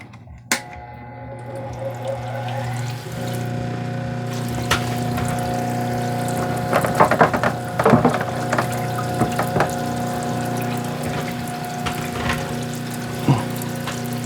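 Water runs steadily from the tap of a stone-cutting saw with an articulating arm, a continuous wash near at hand with a hum beneath and scattered knocks and drips.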